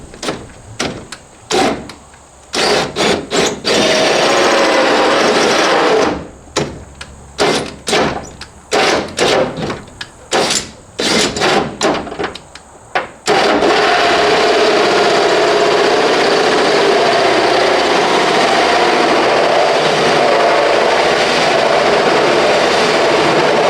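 A power drill bores through garage siding while a mini split heat pump is being installed. Loud, close, stuttering bursts of drilling with stops and restarts give way to one long continuous grinding run.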